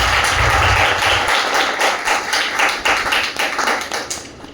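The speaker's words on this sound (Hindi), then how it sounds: "यस और ताली तो बजा दो यार।" Audience applause at an indoor product training session, a dense burst of clapping that thins and fades out toward the end, with no talking.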